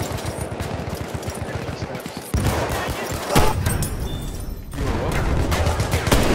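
Gunfire in a Martini Henry infantry video game, a rapid burst of close shots followed by sharp louder reports over continuous battle noise.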